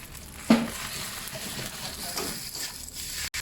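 Pad see ew with pork and egg stir-frying in a hot pan as oyster sauce goes in, a steady close sizzle with scraping stirs and one sharp clank at the start.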